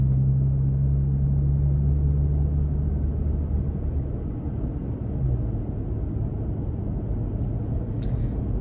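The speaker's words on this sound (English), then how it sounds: "I hear some wind noise and I can hear the engine, of course, and some tire noise" A new Toyota Tacoma pickup cruises along, with a steady low engine rumble blended with wind and tire noise heard from inside the cab, no talking.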